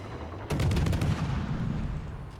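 Warship guns in the naval game World of Warships fire blind through a smokescreen, a sudden loud volley of heavy booms followed by a sustained rumbling roar that slowly fades.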